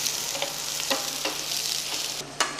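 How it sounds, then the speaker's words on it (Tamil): Chopped onions fry in oil with whole spices for a prawn green chilli fry, a steady close sizzle with periodic scraping stirs, no voices. "நல்லா நறுக்குன வெங்காயத்தை ஆட் பண்ணி இதை நல்லா ஒரு மாதிரி பொன் முருளாக வர வரையும் இதை நல்லா வதக்குங்க."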